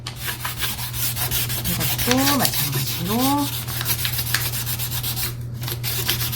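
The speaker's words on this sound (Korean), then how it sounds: "이 사포가 좀 약한 거다 보니까 미는데 좀 힘이 많이 들어요." Sandpaper rubbed by hand across wood during an oil-stain coating job, a steady scratchy rasp with repeated strokes, close and fairly loud, with a brief spoken remark.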